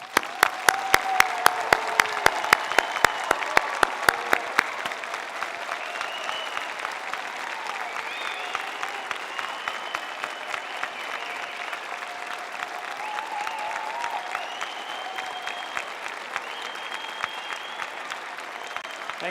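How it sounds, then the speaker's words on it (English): A graduating class at a Toronto Metropolitan University Creative School convocation gets a sustained round of applause from the audience, opening with sharp claps that settle into a long, even wash of clapping. "Let's show it to them now with a round of applause."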